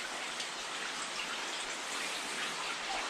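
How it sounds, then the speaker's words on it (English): Water trickles steadily down toward a river near a lake campsite, a soft, continuous broadband splashing with no voices. "You can hear the water trickling through"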